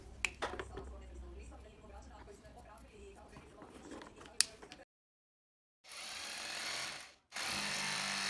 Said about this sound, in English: Mark the drill bit and start drilling.